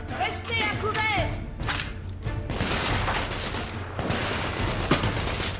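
Suppressive gunfire in the video game The Order: 1886: a dense, continuous barrage of shots and thuds fills the whole stretch at a steady loudness, with a voice calling out briefly near the start.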